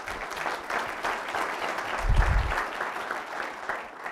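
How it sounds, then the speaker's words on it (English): An audience applauds an alumnus and co-founding partner at a university event, a dense continuous wash of clapping from many hands held at even strength throughout. "Let's give Austin a round of applause."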